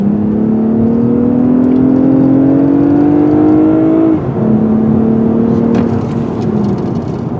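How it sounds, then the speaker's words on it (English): A 2020 Lexus ES 350 F Sport engine pulls hard in Sport Plus mode, its rising whine climbing steadily, dropping at a gear change, then climbing again under loud cabin and road noise. "This engine's got a lot of guts, especially when you put it in the Sport Plus mode."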